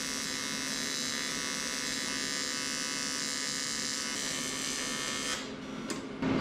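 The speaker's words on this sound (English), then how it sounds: "Let's weld." A welder working on a 1967 Toyota pickup gives a steady close electrical buzz and crackle that holds for about five seconds, then breaks off into short sputters and stops.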